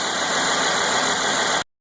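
Steady idle of a Mercedes car engine, a loud even mechanical drone with light ticking that runs unbroken and then cuts off abruptly.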